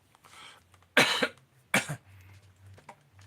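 Two sharp, loud coughs sound close by about a second apart, set against a quiet low hum and faint murmuring in between.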